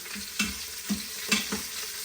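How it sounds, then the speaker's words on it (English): Meat pieces flipped in a frying pan, giving a soft steady sizzle with a few light scrapes and taps as each piece turns, quiet and close. "I'm just gonna flip these over, turn it nice and brown."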